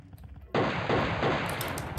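Quad-barrel shotgun from the video game Turok Evolution fires in one loud, abrupt blast that rolls into a long, heavy roar with a rumbling tail, close and dominant, with no talk over it.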